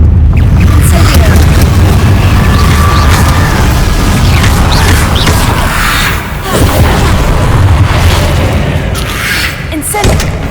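A fire spell in a fight against Inferi erupts with a loud, continuous roaring whoosh and booming rumble, dense and close, with a voice speaking over it.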